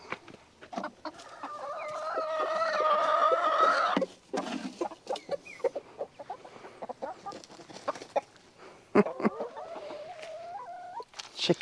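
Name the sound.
chickens clucking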